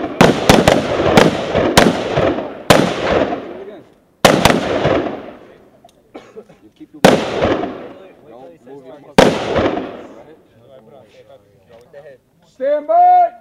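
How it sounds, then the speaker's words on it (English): Gunshots crack at a Marine shooting range, a rapid cluster of sharp shots followed by single and paired reports with echoing tails, with a voice speaking briefly near the end. "When you shoot, fire two shots to the chest!"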